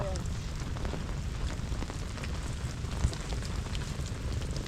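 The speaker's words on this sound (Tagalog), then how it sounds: "Medyo malakas yung ulan natin ngayon." Heavy rain falls steadily around a fishing pond, a constant dense hiss of drops at moderate level, with a few louder thuds and no clear voices.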